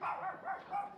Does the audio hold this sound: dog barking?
yes